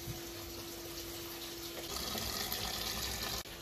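Water runs steadily from a tap while laundry is being washed, in a home in Chiang Rai, Thailand, with a continuous close rushing hiss and no talk.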